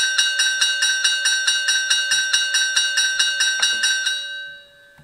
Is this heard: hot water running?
no